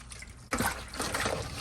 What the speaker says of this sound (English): I'm gonna wash off the paprika with some salt.